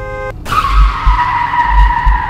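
Loud car brakes screech and tires skid in the horror game Fears to Fathom: a sharp squeal that slides downward in pitch over low, thumping engine rumble, close and alone.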